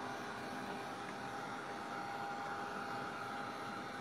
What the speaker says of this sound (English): the dryer is so loud